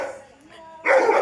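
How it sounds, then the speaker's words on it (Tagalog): An angry dog barking outdoors behind a gate, a short whining yelp followed by a loud harsh bark close by, with a voice speaking at the same time. "Galit ang aso. Tingnan mo."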